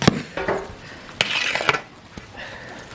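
A metal spoon stirs vegetable and green pea biryani in a cooking pot after ghee goes in, giving a few sharp clanks and scraping strokes against the pot, close and fairly loud.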